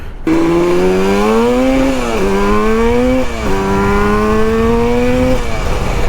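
A Yamaha RD350 cafe racer motorcycle revs loudly and close by, its engine pitch climbing, dipping briefly between gears, then climbing again in a sustained ride with no talking.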